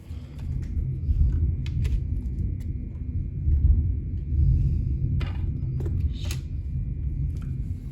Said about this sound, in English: Apologize for that noise outside. That's thunder and lightning.